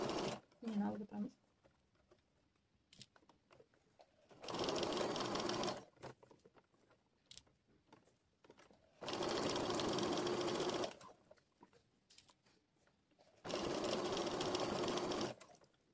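Sewing machine stitching a dress dart, three separate bursts of steady rapid whirring, each lasting about one to two seconds, separated by quieter stretches in which someone speaks.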